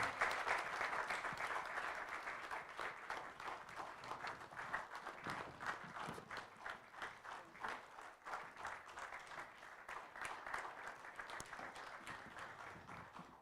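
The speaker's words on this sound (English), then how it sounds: "Please clap until he sits." Faint, steady applause from guests at a fellows onboarding dinner, continuous clapping that holds for over ten seconds with slight swells.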